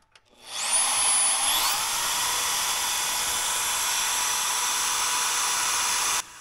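A portable band saw fitted with an 8% cobalt DeWalt blade spins up and then cuts steadily at light pressure, a loud continuous whine and rasp that holds even for several seconds before stopping abruptly.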